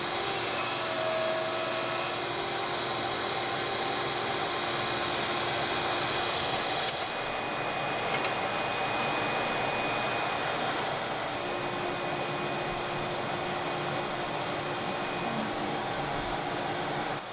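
A bassoon reed making machine runs on soaked cane, giving a steady, continuous mechanical whir that holds at an even level throughout, with a brief click partway through and no talking.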